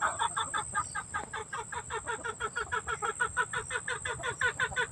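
Backyard chickens in a small coop cluck in a rapid, steady rhythm close by, their calls repeating continuously and loudly with no talk.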